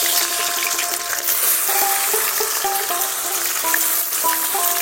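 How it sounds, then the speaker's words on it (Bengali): Chopped onions fry in hot mustard oil in a wok for a village-style mutton curry, giving a continuous bright sizzle, broken now and then by faint clinks. "এবারে কুচে রাখা পেঁয়াজগুলো দিয়ে দিচ্ছি।"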